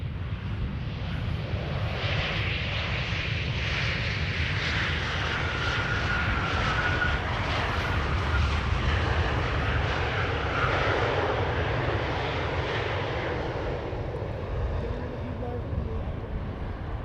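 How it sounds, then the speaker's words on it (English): Airliner on flight 263 from Warsaw landing on the Polderbaan runway 18R at Amsterdam Schiphol Airport, a broad, steady engine roar and rushing rumble holding loud throughout and easing slightly at the end, with commentary spoken over it. "This is flight 263 arriving from Warsaw, and wasn't that a polished landing?"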